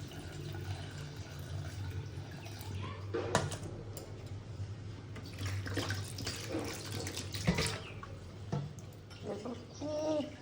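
Cold tap water runs and splashes in a kitchen sink as food is rinsed by hand, with a steady stream and intermittent louder clatters and splashes, close and continuous.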